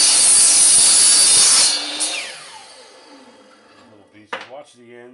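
A power saw cuts through a wooden piece for a Halloween scissor-mechanism prop with a loud, close burst of cutting, then the motor whines as it winds down, ending in a sharp knock and a brief voice.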